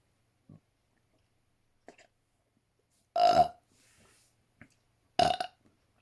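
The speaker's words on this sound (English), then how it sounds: "sorry about that burping" Two loud, short burps a couple of seconds apart, close and otherwise quiet, with a few faint clicks and small mouth noises between them over a conference call.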